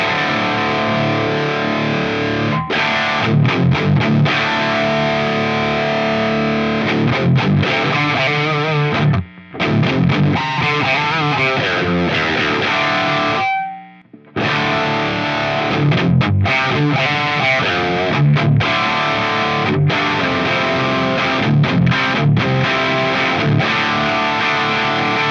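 An electric guitar runs through a Crazy Tube Circuits Heatseeker overdrive pedal in a Marshall-style voicing, producing loud, thick distorted chords and riffs with two brief pauses, no speech.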